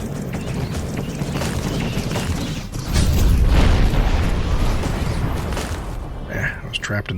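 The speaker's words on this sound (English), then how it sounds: "Trapped in the explosion there." A heavy explosion in the Granvir video game campaign thunders as a sustained deep boom, loud and rumbling across most of the clip amid dense game noise.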